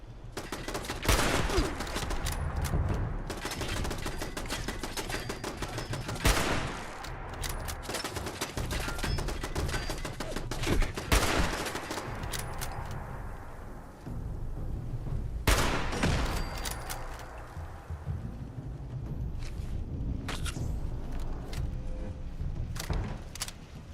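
Automatic turret fire in Fallout 76, dense bursts of gunfire running nearly continuously with loud sharp volleys, brief lulls and mechanical clatter, close and prominent throughout.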